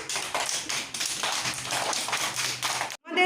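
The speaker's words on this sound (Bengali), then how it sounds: "হাততালি দাও সবাই" A group of children clap their hands in a classroom, a brisk, steady patter of close applause lasting about three seconds that stops abruptly, followed by a brief voice.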